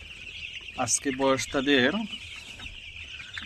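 Eleven-day-old chickens cluck in a short burst of several calls close by, over faint background noise, while a person speaks.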